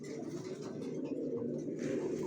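Racer pigeons, a tagged pair of young adults in a loft, coo steadily in a low murmuring drone that continues throughout, close by with no talking.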